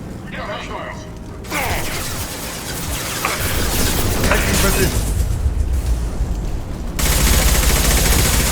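Gunfire from Blue Suns mercenaries and Vorcha in the Mass Effect 2 Legendary Edition mission, a dense, continuous spread of shots and booms that swells louder midway and again near the end, with game voices mixed in.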